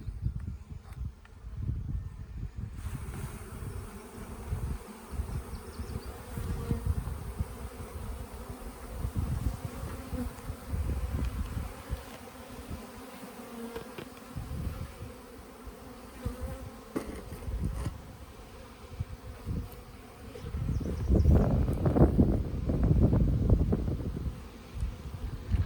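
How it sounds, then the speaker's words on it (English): Honey bees buzz around a hive during a transfer from a top bar hive to a Langstroth hive, a dense, fluctuating hum of many insects, near and fairly loud, swelling toward the end, with no talking. "Lots of bees."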